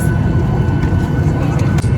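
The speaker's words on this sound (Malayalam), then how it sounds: "ഇത് വേറെ ഫ്ലൈറ്റ് അല്ലേ" A passenger airplane's engines make a loud, steady, close drone that fills the whole stretch, with no clear speech over it.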